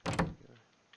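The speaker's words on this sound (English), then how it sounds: "then you can spot other players by the sounds of doors." A door in a multiplayer survival video game opens with a short two-part creak and thud, fairly quiet and alone, fading to near silence.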